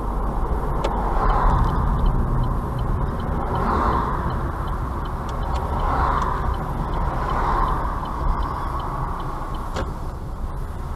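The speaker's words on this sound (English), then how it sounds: "we're going to turn the car around just here" A car on a road near a tunnel, heard from inside as it turns around, with a steady, moderately loud engine and road rumble that rises and falls in slow surges, and a few faint ticks over it.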